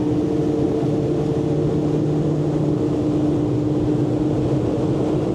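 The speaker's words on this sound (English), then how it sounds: "here we go, going on a boat ride" Steady drone of a motorboat engine with rushing wind and water noise in the Florida Everglades, constant and loud throughout, no voices.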